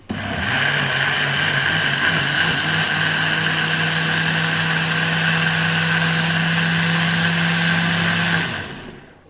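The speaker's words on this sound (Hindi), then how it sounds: "तो इन्हें मैं ग्राइंड करूंगा, ब्लेंडर में शेक करूंगा इन्हें" A blender grinding onions and tomatoes whirs steadily at high speed for about eight seconds, loud and close, then spins down and stops.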